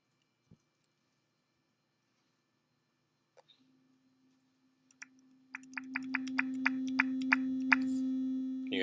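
After a few faint clicks, a computer-generated sine wave tone starts up and holds steady and fairly loud, with a rapid run of sharp keyboard-like clicks layered over it.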